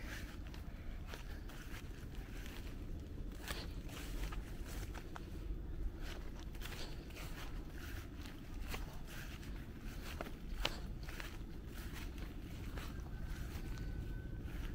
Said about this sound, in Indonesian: lihat itu air itu ngalir terus loh